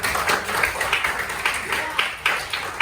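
Scattered hand claps from a classroom audience, sharp and fairly close, pop out in an uneven rhythm over steady chatter and voices.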